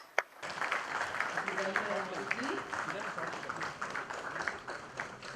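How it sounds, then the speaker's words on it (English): Audience applause fills the room at the inauguration ceremony of a smart city conference, a steady, dense patter of many hands clapping that runs throughout after a sharp opening tap, with faint background sounds mixed in. "please give a big round of applause to our chief guest"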